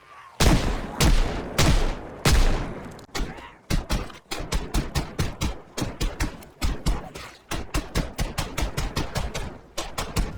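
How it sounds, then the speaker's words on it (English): Gunfire in Project Zomboid, a run of loud sharp shots that begins slowly and then speeds into rapid bursts, each crack close and punchy. "Let's get out the gun, sure."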